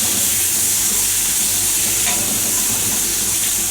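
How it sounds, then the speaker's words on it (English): Tomatoes cooking in a pan with onion, ginger and garlic give a steady, loud, close sizzle with a constant frying hiss and no talk. "So now we have to cook till the tomatoes are soft"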